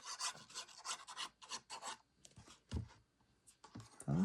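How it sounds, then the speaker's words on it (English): Folded paper on a handmade gift box being burnished down with repeated short scraping rubs, close and crisp, in quick uneven strokes with brief pauses. "Burnish it down."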